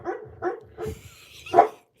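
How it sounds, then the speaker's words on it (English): A sleeping dog barking in its dreams, a few muffled, soft woofs and yips in a short irregular series, close by, ending in a louder final bark. "Look at him barking in his dreams."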